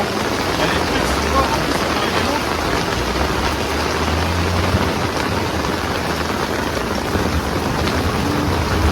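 Steady rain falling during a car drifting outing, a dense and loud constant hiss that runs without a break through the whole stretch, with no talk over it.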